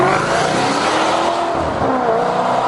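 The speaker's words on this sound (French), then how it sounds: "Et le bruit d'une Maserati d'abord," Maserati Gran Turismo S MC engine running steadily and loudly up close, a continuous full-bodied drone with no talking, heard during a drive in the Paris region.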